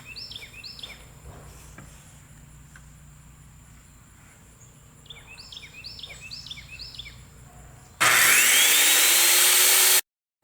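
A power saw briefly cuts a piece of wood to size for a nightstand: a loud, harsh two-second burst that abruptly stops, after a long quiet stretch where crickets chirp in the background.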